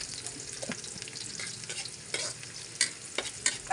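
Onion sautéing in a pan as the first step of a pancit dish, giving a steady close sizzle with scattered stirring scrapes and a few sharper utensil clacks near the end, with no talking.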